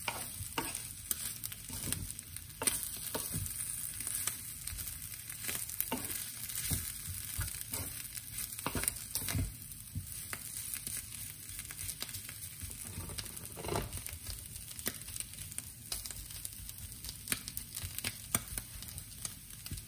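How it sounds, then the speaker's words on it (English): Soya meat, marinated plain soy protein, sizzles steadily as it grills dry in a pan, a continuous crackling fry with occasional stirring clatter and no talk. "I want to grill them a little bit dry, so I need some more time."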